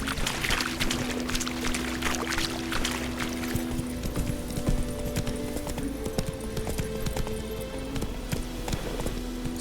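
Horse hooves clip-clop steadily on the ground in The Witcher 3, a continuous rhythmic trot over soft wet-sounding background ambience, moderately close, with a faint voice briefly present.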